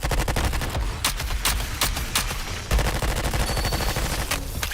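Rapid video game gunfire, dense overlapping shots with sharp crack transients and booming low end, a sustained loud barrage with a brief lull midway, no speech.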